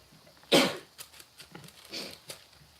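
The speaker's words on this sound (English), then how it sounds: "I have to sneeze." A single sharp, close sneeze-like burst, followed by quieter breathy rustles and small noises.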